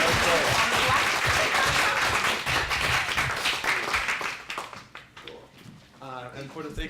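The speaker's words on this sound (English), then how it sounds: "Give a round of applause to everyone here" Audience applause fills a room at a poetry reading, dense and loud at first, then thinning and fading over the last seconds as a voice begins talking over it.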